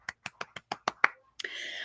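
Children in a school celebration assembly clap for classmates: a short run of seven evenly spaced sharp claps, then a brief burst of scattered clapping, quiet and close.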